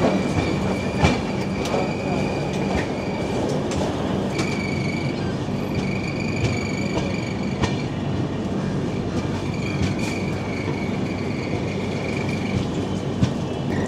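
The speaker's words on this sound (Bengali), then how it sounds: "একদম দুপুর 1:10-এ ট্রেন কলকাতা স্টেশন থেকে কিন্তু আমাদের ছেড়ে দিয়েছে মথুরার উদ্দেশ্যে।" A passenger train runs from Kolkata toward Mathura, with a steady close rumble of wheels on track and sustained high metallic squeal tones riding over it throughout.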